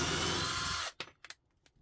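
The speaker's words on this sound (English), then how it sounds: "now the speed change, so you just pop the switch up and you can see there's a much quicker intake on that" A cheap Dayplus cordless drill from an £11 kit drives a screw at its higher speed setting with a loud, steady whir that cuts off abruptly, followed by a few faint clicks.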